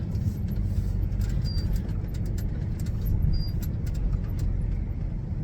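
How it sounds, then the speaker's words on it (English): A bin lorry passes on a rural road near a farmhouse, a loud steady low engine rumble close by with faint high squeaks of brakes. "it's not a skip lorry, it's a bin lorry"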